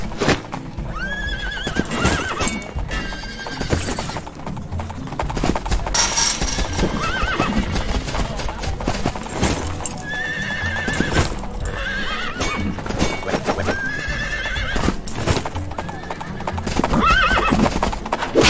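A horse walks with steady clip-clop hoofbeats and whinnies repeatedly, the neighs rising and falling over the rhythmic steps, close by throughout.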